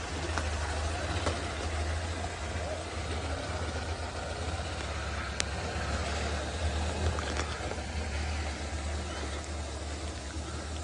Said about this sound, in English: another vehicle has just joined us in the sighting, so you may have heard a little engine rumbling along past us.